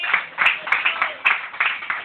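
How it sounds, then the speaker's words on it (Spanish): Church congregation claps in a loose, uneven rhythm of bright hand slaps, a few seconds of scattered applause heard alone at moderate loudness. "Damos un aplauso por ello"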